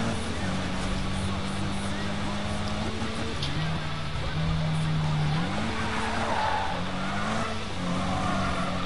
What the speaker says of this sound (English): that U-turn drift